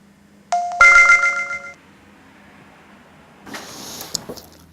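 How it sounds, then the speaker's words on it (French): A phone's text message notification tone chimes in two short bright melodic bursts, then quiet room tone and a brief rustling noise follow; no talking. "Ah, un SMS de mon opérateur téléphonique"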